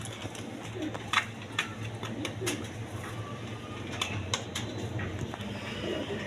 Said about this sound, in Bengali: আর্মি কবুতর।